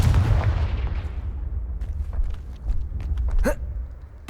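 A Confringo fire spell fires in Hogwarts Legacy with a loud blast at the start that fades, followed by a few sharp cracking hits and one bright burst near the end, no talking.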